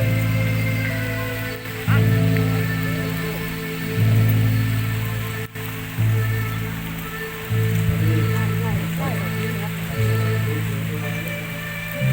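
Heavy rain falls during a road ride, a steady hiss under a droning engine hum that rises and falls in repeated surges, with brief clunks between them.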